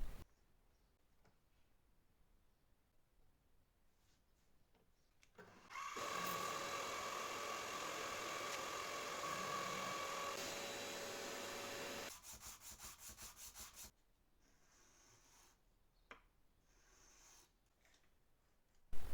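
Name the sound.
milling machine cutting a knife with a vacuum collecting dust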